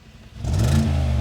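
Mercedes G63 G-Wagon with an aftermarket exhaust in sport mode barks into a sudden loud rev after a quiet moment, its deep engine roar holding strong and close.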